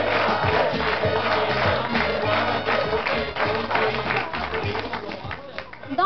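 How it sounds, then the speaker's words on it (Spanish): Studio audience applause and cheering on a Spanish-language talk show as a guest named Camilo is brought out, busy crowd noise with clapping and some voices, loud and continuous. "un fuerte aplauso para Camilo"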